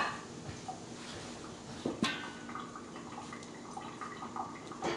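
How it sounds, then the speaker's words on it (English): Water poured off a pot while fresh mozzarella is being made in a kitchen: a steady wash of splashing and dribbling liquid throughout, fairly close and continuous, with a few sharper knocks and drips. "Dump some of the water out now"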